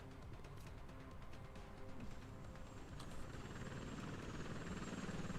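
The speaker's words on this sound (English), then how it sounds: "Shoot the helicopter down, guys!" Helicopter in the video game XCOM Long War, a continuous rotor-and-engine drone that swells slightly louder toward the end, with game effects layered over it and no talking.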